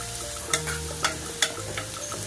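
Onions frying in oil until golden brown for an okra gravy, a steady close sizzle broken by a few sharp clinks and scrapes of a spoon against the pan.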